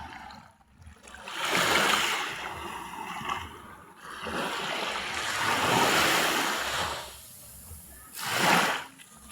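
Sea waves roll and wash ashore at Bucana beach in Nasugbu, Batangas, where the water deepens quickly; broad surging swells rise and fall, with a final close crash near the end, mixed with wind buffeting.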